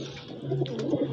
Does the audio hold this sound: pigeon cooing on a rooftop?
yes